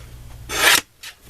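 A card base for a Christmas card is trimmed in a short, close rasping cut, a brief bright scrape followed by a second fainter one.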